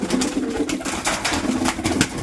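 Giribaz pigeons coo in a loft in a close, repeated rhythm, with soft throaty calls overlapping steadily and no voices.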